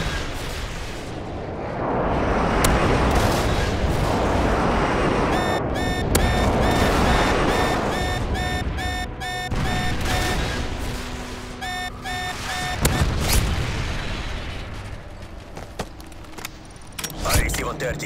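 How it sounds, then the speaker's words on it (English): Heavy booming explosions from an airstrike in Modern Warfare 3 gameplay roll continuously for about eighteen seconds, dense and loud, with tonal game cues and gunfire mixed in, and voice chatter underneath. "Friendly airstrike on the way."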